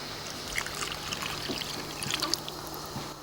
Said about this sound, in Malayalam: ഇനി കുറച്ച് വെള്ളം ഒഴിക്കാം.